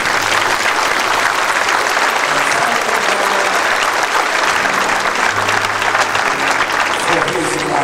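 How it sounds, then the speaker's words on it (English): A funeral congregation claps hands in celebration, a dense, loud, sustained wash of applause from a large crowd that holds steady throughout. "We can celebrate by clapping our hands."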